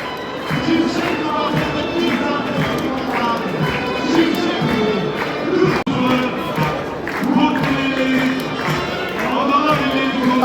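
Stadium crowd at the Kırkpınar oil-wrestling grounds cheering as the giant Turkish flag parades by, a broad sustained roar with clapping and shouts, loud and steady while a commentator talks over it.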